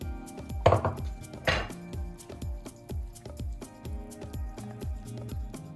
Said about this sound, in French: Maintenant, je retire le couvercle, j'ajoute les poivrons.